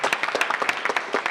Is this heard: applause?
yes